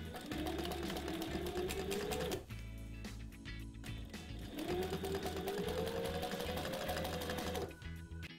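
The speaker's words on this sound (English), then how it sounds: "what I'm gonna do is I'm just gonna come back in here and sew this up a little bit tighter" A sewing machine stitches an automotive seat seam in two long, loud runs with a brief pause between them, its needle hammering steadily while the motor speeds up and holds.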